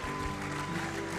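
A church audience gives continuous, dense applause for the crew, sustained and fairly loud, with faint voices underneath.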